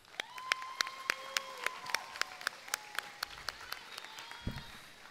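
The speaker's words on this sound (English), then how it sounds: "Students, let's give them a nice round of applause." Scattered hand claps ring out at an 8th grade school graduation ceremony, with individual claps spaced unevenly across a few seconds over quiet room tone and faint tonal sounds.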